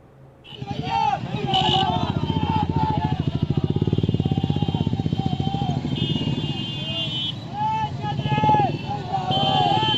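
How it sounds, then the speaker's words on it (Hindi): A steady, close engine drone from a group of motorcycles ridden by bikers at a panchayat election rally in Nalanda, Bihar, runs throughout with crowd chatter and shouting mixed in. "कोई अपनी रैली में 100 बाइक सवारों को शामिल कर अपनी ताकत दिखा रहे हैं"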